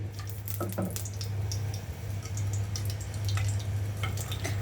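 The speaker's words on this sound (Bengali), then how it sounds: "তো তেলটি আমার খুব ভালো মতন গরম হয়ে এসেছে এ পর্যায়ে আমি দিয়ে দিব দুটো আস্ত সিদ্ধ ডিম" Two whole boiled eggs frying in very hot oil crackle and spit in a dense, continuous sizzle over a low steady hum, close and moderately loud.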